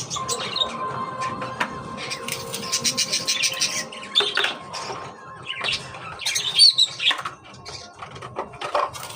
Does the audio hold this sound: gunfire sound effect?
no